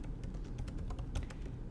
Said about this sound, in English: as soon as he's done typing words over there